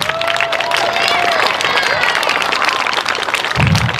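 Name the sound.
applause for Lucy and the color guard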